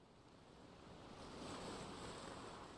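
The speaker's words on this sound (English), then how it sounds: "Let's listen to the sea. It is peaceful." Calm sea waves in the video game Without A Dawn: a soft, steady wash of surf with faint wind, quiet and continuous, gently swelling louder midway, with no voices.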